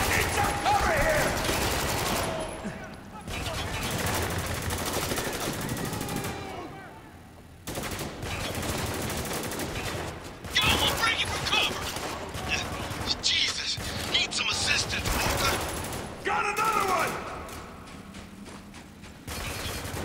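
Heavy gunfire rages through a Spec Ops: The Line firefight, with dense bursts of automatic rifle and machine-gun fire, thuds and clatter nearly nonstop and loud, briefly easing before erupting again.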